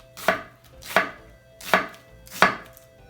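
A nakiri knife chopping onions on a cutting board, four evenly spaced crisp thunks at a slow steady pace, close and distinct with quiet gaps between and no speech.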